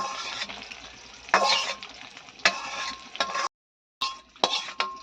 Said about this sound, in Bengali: এদিকে হচ্ছে মাছ ভাজা